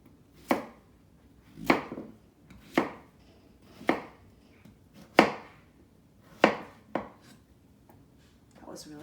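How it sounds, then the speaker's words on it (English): A knife chops zucchini into pieces on a cutting board, seven or eight sharp distinct strokes at an even, unhurried pace, close and crisp with quiet gaps between. "just cut it into pieces"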